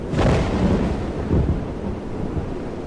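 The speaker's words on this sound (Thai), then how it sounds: "คืนฝนตกอย่างนี้คุณยังออกมาอีก" On a rainy night in the Roblox game, thunder rumbles loudly over a steady hiss of falling rain, with no talking.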